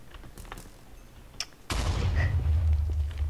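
A creeper in Minecraft explodes with a sudden, loud boom after a quiet hiss and faint game sounds. The blast is followed by a long rumbling roar that stays heavy through the end.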